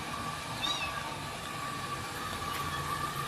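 A small stray kitten gives a short, thin meow over a steady, loud background hum and rumble, with no voices in between.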